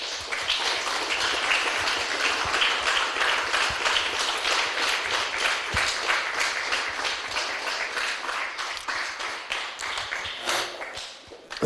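A congregation claps loudly and steadily throughout a church service, a dense, continuous wash of hands with no voices over it.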